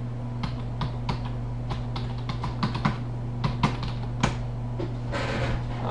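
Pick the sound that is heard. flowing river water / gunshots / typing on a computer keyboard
typing on a computer keyboard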